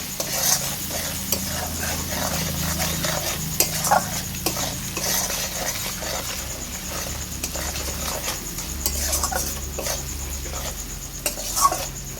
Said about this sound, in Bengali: এবার মশলাটাকে আমি ভালো করে কষতে থাকবো